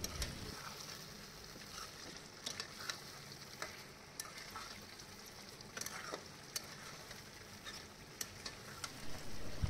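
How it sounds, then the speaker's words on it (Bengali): Cauliflower and potatoes are stirred into egg korma gravy, a soft bubbling simmer under faint, scattered clicks and scrapes of a spoon against the pot. "এগুলো গ্রেভির সঙ্গে আমি মিশিয়ে দিচ্ছি এবার নেড়ে"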